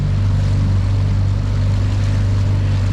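A sailboat's motor drones steadily at close range, a low, even puttering hum that holds without a break from start to finish.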